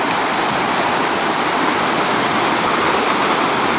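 A strong river current rushes over a concrete slab, a loud, steady broadband roar of churning water close by, continuous throughout with no voices.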